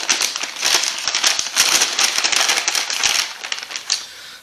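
Plastic wrapping crinkling and tearing as a wrapped steak is unwrapped, a close, busy rustle of crackles and crumples that fades out near the end.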